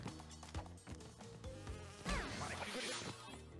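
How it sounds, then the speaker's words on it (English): A bee buzzes in Crash Bandicoot N'Sane Trilogy, an insect drone that swells in over the upbeat game music and persists to the end. "a bee showed up."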